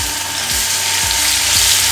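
Onion paste sizzles steadily in hot mustard oil, a loud continuous frying hiss with soft stirring scrapes about every half second.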